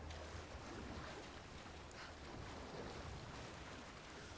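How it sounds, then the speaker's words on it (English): Open-world game ocean with surf and white water in Assassin's Creed Shadows: a steady, full wash of waves and wind-like water noise, constant and fairly soft, with no talk. "Look at the water graphics, David."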